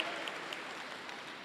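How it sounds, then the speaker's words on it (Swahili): Applause at a church annual general meeting as members walk back to their seats, a dense, steady wash of many hands clapping at even loudness throughout, with no voices over it. "Tuwapigie makofi wanaporudi kuketi"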